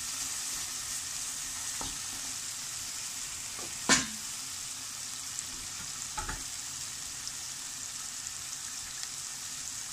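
Baim fish sizzling as it is added to frying spices for a potato curry, a steady close hiss of hot oil broken by a sharp splash-like burst and a few soft clinks.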